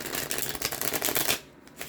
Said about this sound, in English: let me just pull some cards on this